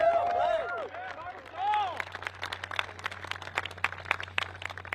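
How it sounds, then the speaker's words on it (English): Crowd applause breaks out at the Disc Golf Pro Tour Championship finals, following a moment of speech; scattered, crisp claps build into a steady patter, moderately distant, with faint crowd murmur underneath. "Let's get a round of applause."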